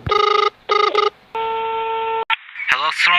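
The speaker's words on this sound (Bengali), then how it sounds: "এখন আমরা আমাদের এই সাবস্ক্রাইবারকে ফোন দেবো" Several short electronic beeps of telephone keypad tones in quick succession, a longer steady tone, then a voice begins.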